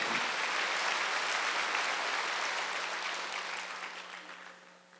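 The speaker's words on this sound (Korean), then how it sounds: "박수 한번 주세요" Worshippers at a Korean church's Wednesday service applaud together in a thick, even burst of clapping that gradually tapers off toward the end.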